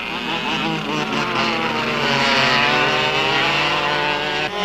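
Go-kart engines racing around a circuit, a loud, sustained high-pitched buzzing drone that holds steady and swells slightly toward the middle before easing off.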